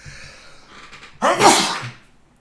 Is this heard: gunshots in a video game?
no